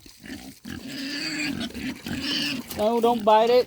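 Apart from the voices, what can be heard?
pigs playing with a water hose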